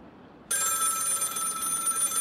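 A telephone rings loudly and steadily in the horror video game Don't Go Into The Basement, starting abruptly after a near-silent moment and continuing without a break.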